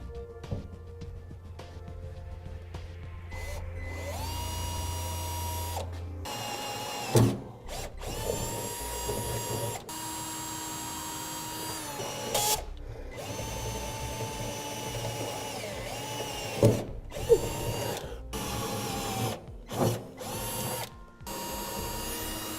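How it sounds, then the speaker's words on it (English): A power drill with a 1/2-inch bit whines repeatedly, drilling down through the bed of a 2004 Ford F-350 Super Duty, revving up and down in bursts with short pauses between, close and fairly loud, with occasional clunks of material. "we'll go to the top side and drill back down with our 1/2-inch drill bit"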